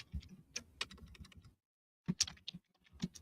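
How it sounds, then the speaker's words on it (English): Fast keystrokes on a computer keyboard, typed during a live online auction of vintage jewelry, come in two close bursts separated by a short pause, with low room noise underneath. "Typing in the wrong place."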